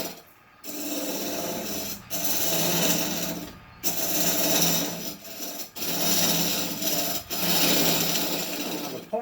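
Repeated rasping scrapes of a woodturning scraper cutting spinning wood on a lathe, in long passes broken by brief pauses, close and fairly loud.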